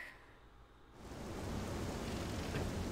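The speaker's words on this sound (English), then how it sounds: "Oh, and now it's raining." Rain begins falling in The Legend of Zelda: Skyward Sword, a quiet game ambience giving way after a second to a steady, hissing downpour that stays even and fairly soft.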